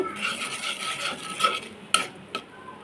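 Turmeric, salt and chili powder are stirred and fried with a utensil in a pan, making a steady rasping scrape. A couple of sharp clinks stand out near the end, and no voices are heard.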